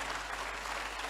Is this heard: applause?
yes